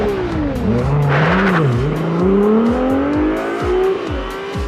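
A 2022 Ferrari 296 GTB engine revs and accelerates loudly. Its pitch climbs, dips through gear changes and rises again over a steady pulsing drone, close and strong throughout.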